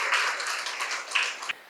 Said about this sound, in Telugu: డాక్టర్ గారి సందేశం గట్టిగా చప్పట్లు కొడదాం మాస్టర్స్.